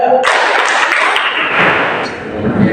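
Students in a classroom clap a counted rhythm pattern together, making a loud, dense wash of many hands that starts sharply and carries on steadily, with voices mixed in.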